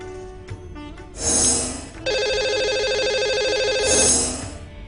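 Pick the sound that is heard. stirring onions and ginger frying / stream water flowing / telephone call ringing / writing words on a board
telephone call ringing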